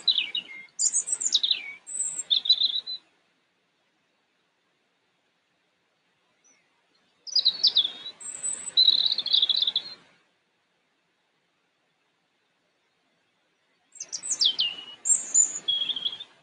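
Songbirds around an outdoor spot deliver three bouts of bright, high chirping and warbling phrases, each a few seconds long and separated by quiet gaps, nearby and unaccompanied by speech.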